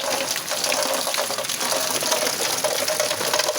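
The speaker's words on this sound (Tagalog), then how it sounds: "Ayan yung ulan." Rain pours steadily outdoors, a dense, continuous hiss of water falling and splashing nearby, loud and unbroken for the whole stretch.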